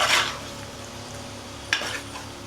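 Fish curry with masala being stirred in a pan: a spoon scrapes and clinks against the metal twice, once at the start and again near the end, over a low background hum, close and fairly quiet.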